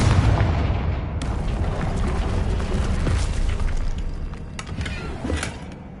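Fiery Confringo spell blasts in Hogwarts Legacy, booming explosions over a dense rumbling roar, with several sharp bursts trailing off toward the end.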